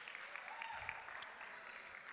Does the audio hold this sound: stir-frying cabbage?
no